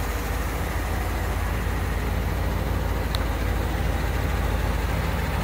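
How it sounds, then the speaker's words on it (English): A 1941 Cadillac Series 60 street rod sedan with a 500 cubic inch V8 idles smoothly and evenly, a close, continuous low rumble with no talk over it. "As you can hear, the car sounds great."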